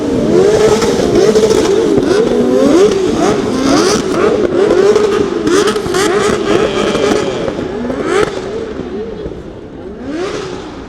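A car revving and drifting at a street event in Shibuya, Tokyo: a loud, close engine wails up and down in repeated surging revs with tyre noise, while people talk and cheer over it.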